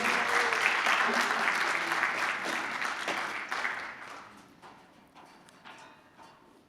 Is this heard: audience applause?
yes